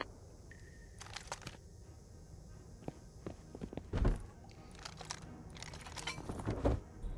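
Footsteps in the video game Rust come as a scattered series of soft, uneven thuds and scuffs, some closer and louder than others, over quiet ambient background noise.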